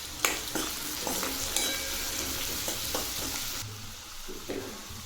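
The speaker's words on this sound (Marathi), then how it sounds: "तेल गरम झालं, त्यामध्ये आपण हा लसूण टाकून घेऊ, बारीक चिरलेला कांदा, थोडीशी कोथिंबीर. आता हे परतून घेऊ." Garlic, finely chopped onion and a little coriander sauté in hot oil for pav bhaji, giving a steady close sizzle with repeated scrapes and clicks of a spoon stirring the pan.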